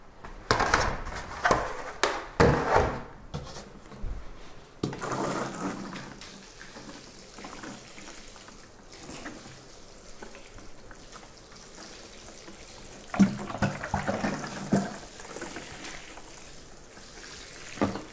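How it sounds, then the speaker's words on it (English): Water splashing and pouring over sunflower microgreen trays during a top watering, with bursts of running water at the start and again later, then a softer steady trickle between, close up with no talk. "we'll give them a good top watering and put them back on the shelf."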